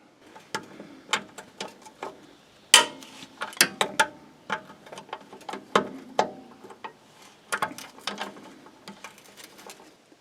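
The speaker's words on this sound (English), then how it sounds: "I do have a breaker bar with a 1/2 inch, and I should be able to loosen both of those." A half-inch breaker bar and socket working loose the engine mount bolts on a Mercedes-Benz W140 S-Class, heard as sparse, close metallic clicks and ratchet ticks in uneven bursts over a quiet background.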